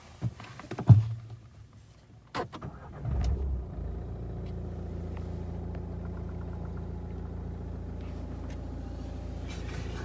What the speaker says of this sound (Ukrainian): Автомобіль заводиться з півоберту.